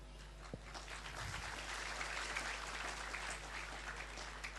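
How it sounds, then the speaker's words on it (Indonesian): Audience applause at an Islamic sermon by former pastor Ustad Yahya Waloni: steady, dense clapping from a crowd that fills the whole stretch without pause. "jangan tepuk tangan, men"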